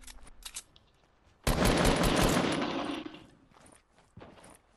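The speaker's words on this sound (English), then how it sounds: "He's trying to shoot me." Loud burst of automatic gunfire in the Fortnite video game, a sustained rattle lasting about two seconds that fades out, with faint scattered shots before and after.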